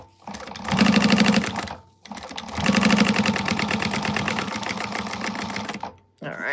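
A sewing machine running long top-stitching passes on a Sue Sue sling bag, two sustained loud whirring bursts separated by a brief pause, with a short start-up at the end.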